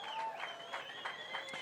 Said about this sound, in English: listen to the Arellano crowd from Chile. cheering him